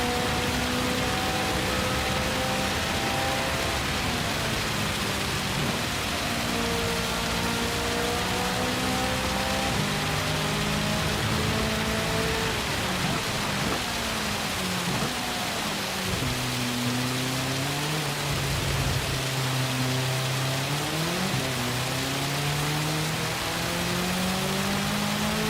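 Rain hisses steadily over a race in the Gran Turismo 7 video game, with a car engine whining underneath and its pitch climbing and dropping through gear changes, all continuous and without talk.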